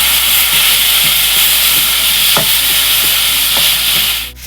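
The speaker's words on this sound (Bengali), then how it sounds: "এবার আদাটা দিয়ে দেবো এর মধ্যে, আদাটা দিয়ে একটু ভেজে নেব," Onions and ginger fry in a pan, giving a loud, continuous sizzle and hiss with a few soft stirring taps, close up, with no talking.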